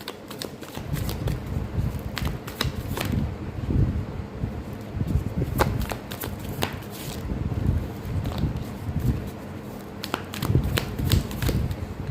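Tarot cards being shuffled, drawn and laid down in a continuous stream of close papery flicks, slaps and rustles, with breathy handling noise underneath and no clear talking.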